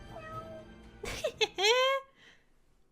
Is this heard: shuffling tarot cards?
no